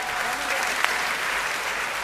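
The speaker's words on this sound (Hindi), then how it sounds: "आपको मजा आया हो तो एक बार तालियां बजाइए" Audience at a Hindi comic poetry stage show clapping together in a steady, dense wash of applause that holds evenly throughout, with one slightly sharper clap standing out briefly.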